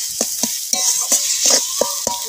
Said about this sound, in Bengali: একটু নেড়ে চেড়ে নেব।